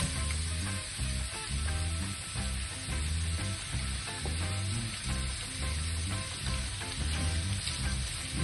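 Onions frying in a pan for a mock Genovese sauce, a steady continuous sizzle with dense crackle that stays loud and even throughout, no voices over it.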